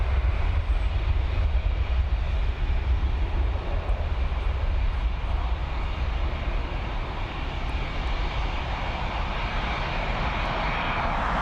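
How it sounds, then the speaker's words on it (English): An Airbus A320 airliner climbs out over Dublin Airport with a loud, continuous engine roar and deep rumble that holds steady throughout, close and without voices. "that A320 heading over to Birmingham in the West Midlands"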